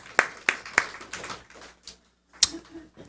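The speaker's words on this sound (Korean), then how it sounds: "박수로 앞에 영광 돌리겠습니다." A few sharp hand claps ring out in a Sunday church service, spaced irregularly and fairly close, with a brief lull before a final clap.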